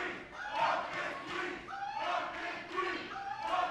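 A crowd at a women's wrestling event roars and chants in rising, surging waves, loud and sustained, with voices yelling throughout.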